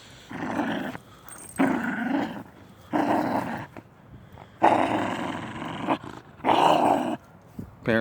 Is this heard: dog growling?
yes